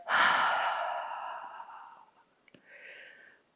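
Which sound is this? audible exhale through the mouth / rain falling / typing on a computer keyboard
audible exhale through the mouth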